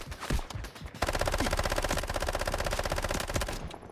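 Sustained automatic weapon fire in the Delta Force shooter game, most likely an MP7, after scattered opening shots: a rapid, loud, continuous rattle of gunshots with no speech over it.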